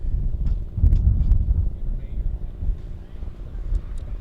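Wind buffeting a microphone across an open rugby field during an LSU vs TCU rugby match, a continuous low rumbling roar with gusty surges, carrying faint distant voices underneath.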